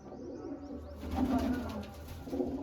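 Pigeons coo softly nearby in low rolling bursts, with faint chirps and some outdoor background noise and no talk.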